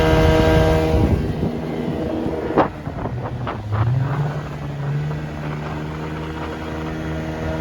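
A 1973 Evinrude 25 hp outboard motor pushing a raft up the Housatonic River, roaring loudly with heavy wind buffeting, then its pitch climbs and settles into a steady drone as the boat gets up on plane.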